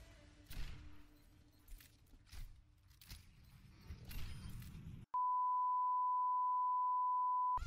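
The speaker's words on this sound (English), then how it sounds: "Oh, I gotta beep that out." A censor beep bleeping out a word during Overwatch gameplay, a loud steady pure tone lasting about two and a half seconds, cutting in abruptly after clicks and game noise.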